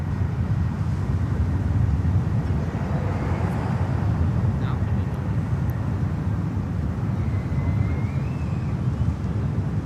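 Jet aircraft at LAX airport produce a continuous broad low roar, steady and fairly loud, with wind buffeting the microphone.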